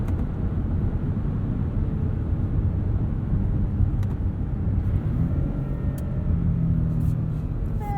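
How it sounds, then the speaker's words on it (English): Steady low engine rumble from a 2021 Lexus RX 350L AWD V6 while driving, heard from inside the cabin as a continuous, moderately loud drone with road noise and slight variations in pitch. "This V6 does sound great."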